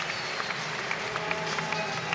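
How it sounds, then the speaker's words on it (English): A crowd roars steadily at the 2011 Keirin World Championship in Apeldoorn, a dense wash of cheering with scattered claps and no clear gaps. "You can hear the crowd."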